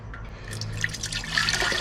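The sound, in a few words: pouring liquid into a bigger beaker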